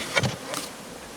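Carpatica honeybees buzz around a freshly opened hive, a short close burst of insect droning with a brief louder swell before settling into a softer hum, with no talking.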